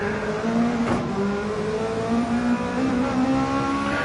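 A Honda NSX and Nissan GTR race through a racing video game, their engines droning steadily with shifting pitch as they hold speed through corners, a continuous loud engine tone with no voices.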